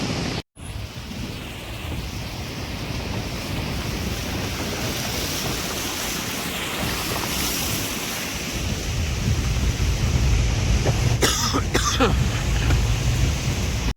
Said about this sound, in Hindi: पानी का फ्लो काफ़ी बढ़ गया हो, बहुत ही ज़्यादा फ्लो है भाई